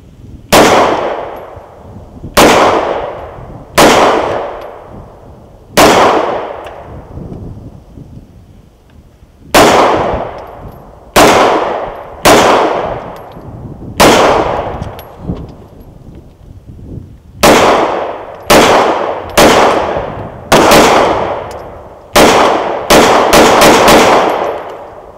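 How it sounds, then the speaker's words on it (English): Pistol shots from an FN FNX-9 fired outdoors in freezing weather, about fifteen sharp loud cracks with ringing decay, spaced irregularly at first and then in a quicker cluster near the end. "So let's take a few shots with it"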